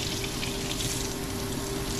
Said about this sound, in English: Maybe I'll run it under some hot water.